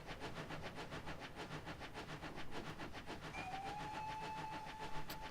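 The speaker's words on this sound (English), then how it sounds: "Just going to sit up here and watch the train go by for a bit." A train rolls through a valley with a rhythmic clickety-clack of wheels over rail joints, steady and moderately distant, with a faint tonal whine joining later.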